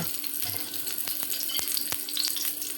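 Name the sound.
chopped onion added to hot oil, sizzling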